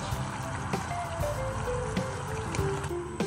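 Green beans and bell pepper tipped into a pot of boiling Thai green curry soup, a dense bubbling and splashing liquid churn with occasional plops, close and steady.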